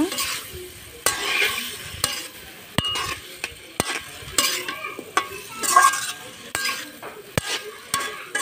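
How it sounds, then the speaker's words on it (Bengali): Potatoes, long beans and rohu fish stir-fry together in a pan, a loud continuous sizzle punctuated by frequent rhythmic scrapes and knocks of a spatula against the metal. "এখন সবগুলো একসাথে ভালোভাবে কষিয়ে নিব।"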